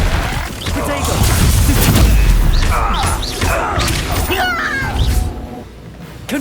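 A Confringo fire spell explodes in Hogwarts Legacy during a goblin fight, giving loud booming crashes and thuds that merge with chaotic combat clatter and creature cries. The din peaks early and then thins out.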